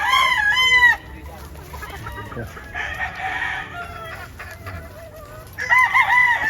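Gamefowl roosters on a farm in late afternoon crow loudly in long, wavering calls at the start and again at the end, with softer clucking and farm background in between; no talk.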